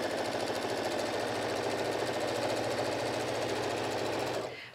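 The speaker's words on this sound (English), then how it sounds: "here I'm just sewing all the way around this" A sewing machine runs continuously while stitching around the edge of a fabric card wallet, a steady rapid mechanical chatter that stops abruptly at the end.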